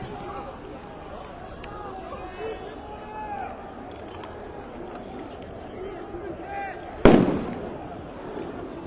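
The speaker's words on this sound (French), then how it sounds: "vous entendez les grenades" Grenade going off at a street protest on Place de la Concorde, a single sharp, loud blast cutting through steady crowd murmur and talk, followed by a brief fading echo.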